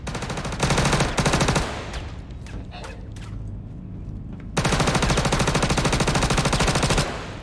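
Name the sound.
gunfire in a video game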